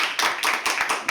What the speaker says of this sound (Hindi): एक बार जोरदार तालियां अभिदेव के लिए।